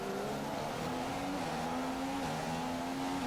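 A Formula 1 car engine in a racing video game on the Singapore street circuit whines steadily at high revs, its pitch sliding up and down through gear changes over a constant, fairly quiet drone.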